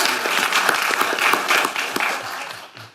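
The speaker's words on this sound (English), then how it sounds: "round of applause for all the doctors" Audience applause for hospital doctors at a Nantucket Cottage Hospital storytelling evening, a dense burst of many hands clapping that stays full for about two seconds and then tapers away.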